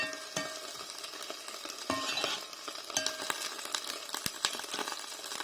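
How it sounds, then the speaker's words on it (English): Greens for a healthy mac and cheese simmer in a covered pan, giving a steady close-up crackle and sizzle with a few light metallic clinks scattered through, and no voices. "I can hear it, basically simmering down"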